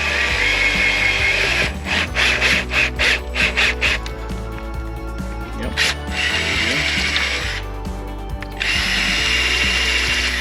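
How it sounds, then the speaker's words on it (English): A power drill whirring in bursts while drilling a pilot hole for a BMW trailer hitch installation, stopping and restarting with brief ratcheting clicks between runs, close and loud. "make sure you're straight and go ahead and do your pre-drill hole first"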